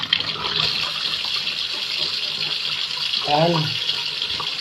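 Fruit is washed under a running kitchen tap while preparing a smoothie; the water flows steadily and splashes throughout, close and moderately loud, as a voice speaks briefly near the end.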